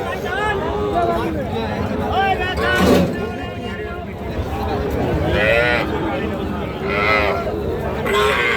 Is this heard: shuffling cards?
no